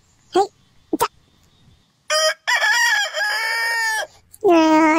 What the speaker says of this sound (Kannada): ಕೋಳಿ ಎಷ್ಟು ಜೋರ ಕುಕ್ಕೈತೆ